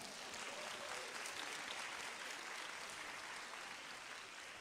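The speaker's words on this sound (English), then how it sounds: "Give her a round of applause." A seminar audience at an estate planning event gives a steady round of applause. The sound is a dense, even wash of clapping that stays faint and distant for the whole stretch.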